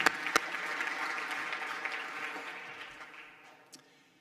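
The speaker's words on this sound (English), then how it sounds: "May I have one more round of applause for our visionaries." An audience at an awards ceremony for visionaries claps in a round of applause. It starts with a few sharp claps, swells into a steady patter, then gradually fades.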